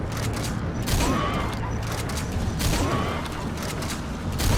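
Gunfire in the Metal Gear Solid V: The Phantom Pain combat scene, with repeated shots and booms over steady mechanical rumble, a dense, noisy firefight at moderate volume from start to finish.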